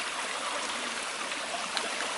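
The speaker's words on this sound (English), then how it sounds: "We're going to put it in the water. We're going to shake this up a little bit." Water sloshes steadily inside a shaken dry bag, a continuous close, moderately loud watery rush with no talking.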